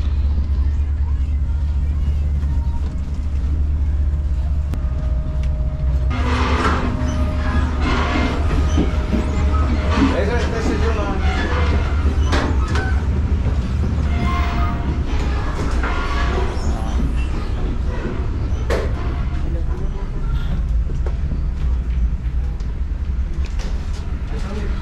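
El Chepe passenger train riding through Sinaloa, Mexico, heard from inside the coach as a steady, loud rolling rumble with wheel clatter that runs throughout, with people talking over it.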